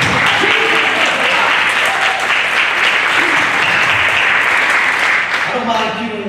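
A church congregation applauding at an Easter service, loud and sustained dense clapping throughout, with voices and cheers mixed into the crowd noise.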